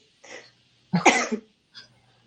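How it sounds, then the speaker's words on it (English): A woman coughs a few times in a quiet room, a short cough followed by a louder, harsher burst and a faint final one, with a low hum beneath. "So, she's coughing."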